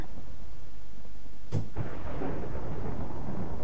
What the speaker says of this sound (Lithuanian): čia tas žaibas, tai mane užkniso